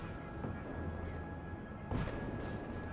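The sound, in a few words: cannon fire from a video game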